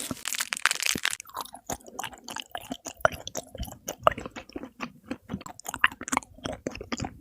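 A strawberry is chewed close to the ear, giving wet, crunchy bites and steady mastication in quick, irregular pulses.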